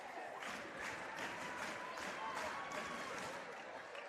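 A packed crowd in an old school high school basketball gym during a DeKalb County versus Upperman game roars and applauds steadily, a dense wash of cheering and clapping with no pauses.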